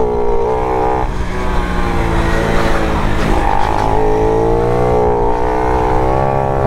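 A Honda Pop 110 motorcycle engine with no air filter and an inverted exhaust runs loud and close, its pitch holding steady, then dipping and climbing again as it revs, with no voices over it.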